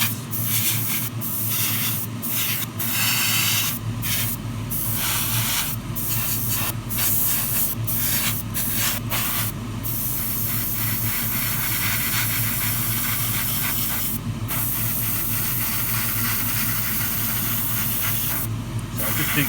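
Spray painting small components of a Tamiya Ferrari LaFerrari 1:24 scale model car chassis: a loud, continuous aerosol hiss held close, broken by brief gaps as the nozzle is released and pressed again.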